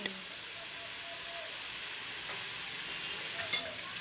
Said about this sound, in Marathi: आता पहिलं फ्राय करून घेते पाच मिनिटं शिजवते भाजी आता